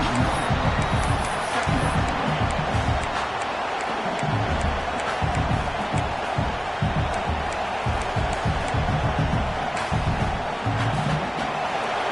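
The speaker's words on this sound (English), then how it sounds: "This crowd bringing the energy and noise early." Stadium crowd at an Auburn vs Nebraska college football game roars steadily throughout, a dense, loud wash of cheering with scattered shouts and whoops rising above it.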